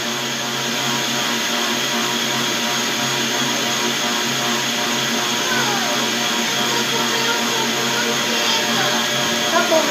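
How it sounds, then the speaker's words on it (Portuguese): An electric stand mixer whirs steadily while beating cheesecake batter with eggs and a whole lemon, a loud, even, continuous drone with no pauses. "Com a batedeira ligada."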